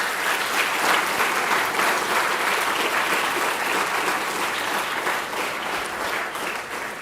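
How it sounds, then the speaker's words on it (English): A big round of applause for ISRO staff after the Chandrayaan launch at a World Space Week valedictory function: sustained, loud clapping from a large audience, even and continuous throughout with no speech over it. "A big round of applause."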